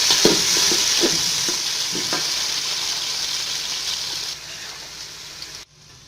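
Steady sizzling of onion frying in a pan for chana pulao, with a few brief stirring clatters near the start and a soft continuous hiss throughout.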